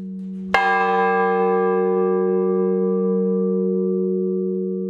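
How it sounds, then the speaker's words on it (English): A single large church bell in a kirk tower, rung before Sunday morning service, strikes once loudly and then hums on with a long, rich ringing tone that slowly fades, with no other sounds. "bells are rung every Sunday morning for 15 minutes before the service to call everybody into"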